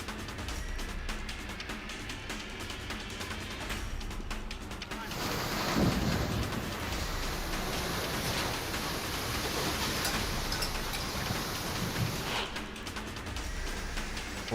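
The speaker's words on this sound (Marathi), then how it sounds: "जोरदार वादळी वारा आणि पावसाने हैदोस घातलाय" Heavy rain with stormy wind in Pune, a dense roaring wash that swells louder midway and holds steady before easing slightly, with faint voices underneath.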